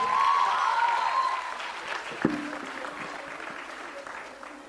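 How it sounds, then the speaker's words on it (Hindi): Audience applause for a children's performance at a Dev Anand quiz show, a dense steady wash of clapping that fades gradually, with a brief louder knock partway through. "और जोरदार तालियां बजाइए"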